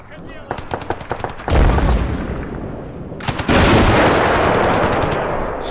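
Gunfire in the WWII strategy game Gates of Hell during a Finland campaign battle: quick separate shots and short bursts at first, then loud, dense, sustained firing with heavy booms that continues to the end.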